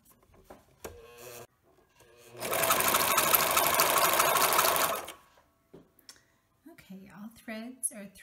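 A serger sewing machine runs in one loud, steady burst of about two and a half seconds, close up, with quiet talk before and after it.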